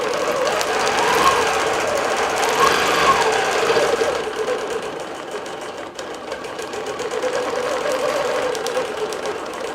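A Bernina Q24 longarm quilting machine, computer-guided and fitted with an 80 or 90 needle, stitches a heavily pieced quilt in a continuous fast whirring, mechanical hum that stays loud and even throughout, with no voices.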